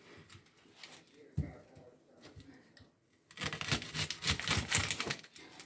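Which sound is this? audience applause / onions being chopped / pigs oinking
onions being chopped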